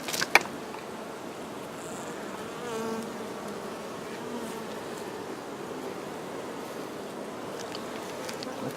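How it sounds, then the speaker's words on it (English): Honeybees swarming in the bottom box of an opened hive hum in a dense, steady buzz, with individual bees droning close by now and then and a sharp click near the start; no talking. "Bottom box is full of bees."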